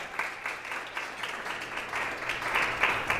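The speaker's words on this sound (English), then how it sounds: "Give yourselves a round of applause" Audience clapping at a Bach's Lunch concert gathering, a dense, rapid patter of many hands that holds steady and swells slightly toward the end.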